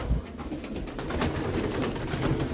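Pigeons cooing in a loft, soft overlapping coos near and steady throughout, with faint rustling and background bustle.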